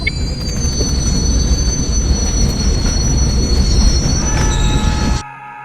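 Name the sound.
train arriving in Indian Bike Driving 3D video game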